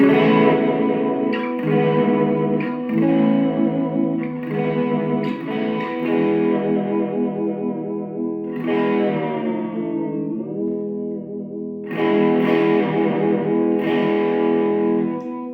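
An electric guitar plays chords using its tremolo arm, notes wavering and bending in pitch, ringing out with distortion and reverb.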